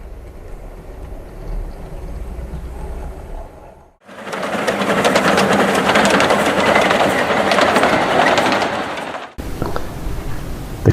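A Kato Peco 009 narrow gauge model Quarry Hunslet locomotive running on track, a loud continuous whirring motor and rail rumble lasting several seconds, cutting off abruptly, with no talking.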